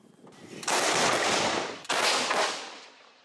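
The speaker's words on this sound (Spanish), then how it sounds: "Estos son los cañones autopropulsados César enviados por Francia" French CAESAR self-propelled howitzers firing artillery in the Donbass conflict: two loud, broadband blasts about a second apart, each with a long rumbling roll that fades slowly, heard without talk.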